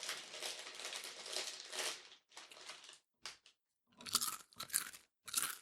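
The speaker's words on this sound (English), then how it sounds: "sitting here eating chips on the mic" Potato chips crunched close to a microphone, loud crisp bites and chewing in a steady run for about two seconds, then shorter bursts separated by pauses, with no talking.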